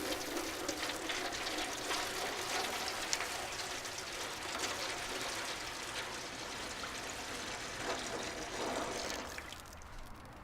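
Water poured steadily into the drip pan of a charcoal kettle grill set up for indirect cooking of tri-tip, a continuous close splashing stream lasting about ten seconds before easing off at the end.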